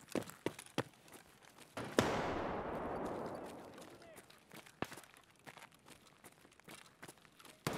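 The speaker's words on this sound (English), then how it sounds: "They're all gonna die to that nade." A grenade detonates in Escape from Tarkov, a sudden sharp blast followed by a long rushing, debris-filled rumble that fades over a couple of seconds, surrounded by scattered gunshots and footsteps.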